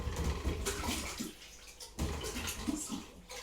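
Tap water runs steadily as hands are rinsed at a kitchen sink, a soft, continuous splashing with brief breaks, close by and fairly quiet, with no voices.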